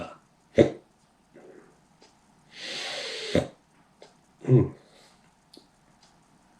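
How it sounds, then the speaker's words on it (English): Several sharp hiccups from an adult after drinking spicy cinnamon spirit, spaced irregularly across a few seconds between quiet breaths and a brief breathy exhale, with no talking. "the hiccups are trying to make their way through, and I'm trying my best to tamp them down"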